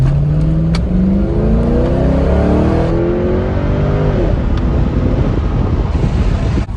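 A C5 Corvette engine revs hard through rising gear pulls, loud and close, with wind roar over the microphone and a brief drop between shifts.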